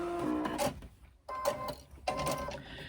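Domestic sewing machine back stitching a welt into a lining piece, heard as three short bursts of rapid mechanical stitching with brief pauses between, close and fairly loud with no talk.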